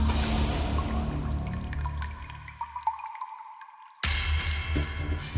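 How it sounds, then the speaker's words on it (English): Water trickles slowly from a household tap into a container, giving a close wet patter with a tone that shifts as it fills, a brief near-silent gap, then a sudden louder splashing flow. "अभी जरा टपकता है पानी"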